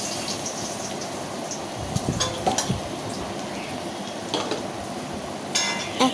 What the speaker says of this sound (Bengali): এখন আর যেই মাছগুলো ছিল সেগুলো সবগুলো ভেজে নেব এক এক করে।